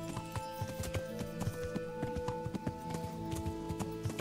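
Horse hooves clip-clop steadily in the medieval game Kingdom Come: Deliverance, a rapid, continuous rhythm of hoofbeats close by over a layer of ambient game sound.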